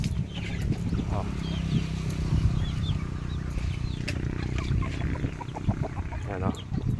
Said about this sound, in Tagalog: mga naglilimlim na manok po dito